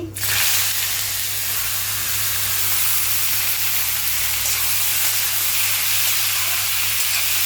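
Chopped bottle gourd dropped into hot oil already tempered with five-spice and dried red chilli, giving a loud, steady sizzle and hiss that starts with a sharp burst and holds throughout, with no talking.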